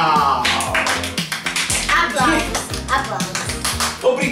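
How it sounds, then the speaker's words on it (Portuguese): People at home clap in celebration, a lively burst of many overlapping claps and taps, close and energetic, with voices shouting and chattering among them. "Aplausos!"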